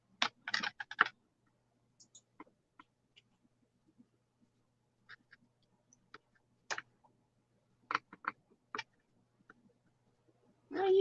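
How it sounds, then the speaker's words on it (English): Sparse clicks and short bursts of typing on a computer keyboard, scattered irregularly across a quiet room, some taps close and crisp, others faint single ticks, with no voices. "I hear you clicking and all this and that."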